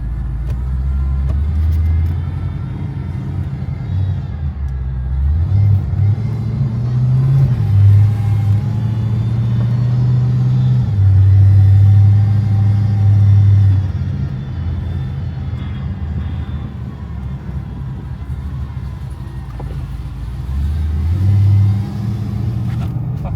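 A Cadillac engine, either an Eldorado or a CTS-V, drones loudly in a deep rumble that swells and eases as it revs, heard up close with no talking.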